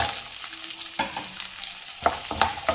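Chopped carrots sizzle in hot oil for carrot kalan, an Onam feast dish, with a low continuous fry and a few sharp stirring scrapes near the end, no voices.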